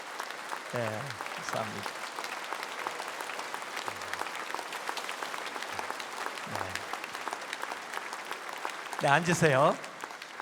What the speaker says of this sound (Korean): 우리 박수로 격려해 주시기 바랍니다.